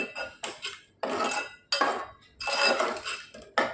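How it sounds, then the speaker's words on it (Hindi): Chicken handi being stirred in a metal pot, giving bursts of scraping and clinking of a spoon against the pot in uneven strokes, close and fairly loud, with brief pauses between. "अब इसे हम अच्छी तरह से चला लेंगे।"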